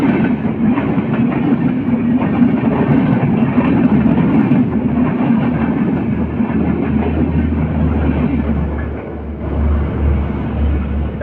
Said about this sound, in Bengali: যেটা গেল এটা হচ্ছে মৈত্রী এক্সপ্রেস